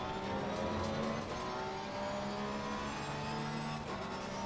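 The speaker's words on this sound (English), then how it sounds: "The acceleration on the Audi is actually crazy." An Audi race car in a racing video game, on the Hungaroring, accelerates hard. Its engine holds a steady, sustained whine rich in layered tones, fairly quiet and with no voices.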